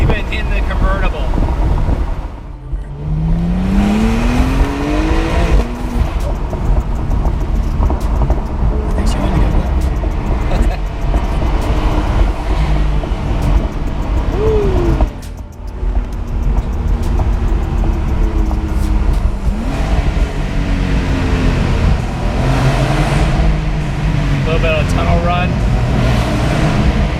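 A 2020 Porsche 911 (992) Cabriolet engine climbs to high RPM and shifts while driving with the top down, the rising engine note repeating over wind buffeting, with someone talking over much of it.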